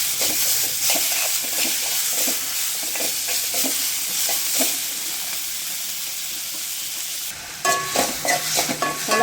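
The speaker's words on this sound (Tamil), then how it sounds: "தக்காளி நல்லா வதங்கட்டும் இப்போ பூண்டு ஒரு நாலு பல் தோலோட போய் தட்டி சேர்த்துக்குவோம்" Tomatoes and crushed unpeeled garlic cloves fry in a pan for a village-style lentil dumpling curry, with a loud, steady sizzle and hiss broken by repeated stirring and scraping. A burst of sharper crackling comes near the end.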